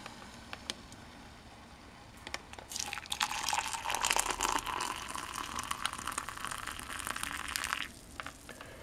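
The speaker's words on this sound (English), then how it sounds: "pour the coffee in here." Freshly brewed coffee poured from a coffee maker carafe into a cup, a liquid gush that swells in the middle and then stops abruptly, preceded by light clinks and taps.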